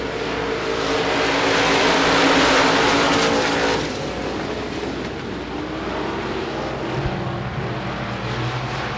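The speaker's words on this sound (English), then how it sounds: "6 cars going to be going 6 laps around the Elizabeth Speedway in your final heat race" Six limited modified race cars roar around the Elizabeth Speedway at the start of a final heat race, their engines loud and dense at first, then easing slightly as the pack moves on, with no talk.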